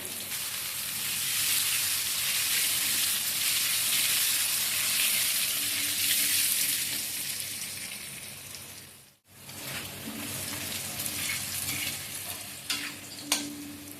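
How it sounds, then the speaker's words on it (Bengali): Potatoes with salt and turmeric fry in oil in a pan, giving a loud, continuous close-up sizzle. It cuts out briefly partway through, then resumes with a few light stirring clicks. "এবারে আমি আলু কটা ভেজে নেবো ভাজার মধ্যে একটু লবণ পরিমাণ মতন দেবো সামান্য একটু হলুদ"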